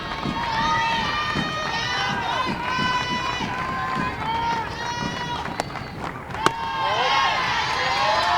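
Missouri softball fans in the stands clap and cheer steadily through a women's college game against Tennessee, with a continuous crowd roar and a few louder whoops near the end, under ongoing commentator talk.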